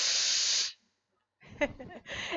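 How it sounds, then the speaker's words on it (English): A steam iron blasts out a loud, steady hiss of steam for about three quarters of a second as the pipe is cleared, then cuts off. After a short silence, a person starts talking. "these irons have such a wonderful steam action that I'm actually going to clear the pipe"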